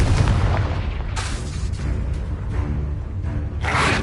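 Confringo blasting spell detonating in Hogwarts Legacy, a dense booming explosion that fills the moment with a loud, sustained rumble and repeated bursts of crackling impact.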